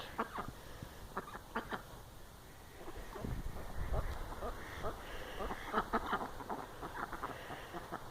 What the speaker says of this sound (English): And you don't care about the ducks?